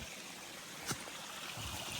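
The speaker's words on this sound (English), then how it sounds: "if there's running water and you're hot, use it to cool down" A mountain stream on an Appalachian trail runs close by in a steady, fairly quiet rushing trickle, with a brief splash partway through.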